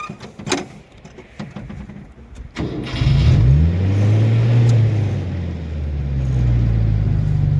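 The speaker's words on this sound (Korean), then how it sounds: "이걸 온 시키면 그다음에 시동 걸면" A farm machine's engine cranks and catches at about three seconds, then settles into a steady low idle rumble after a few clicks and handling noises, with no talking.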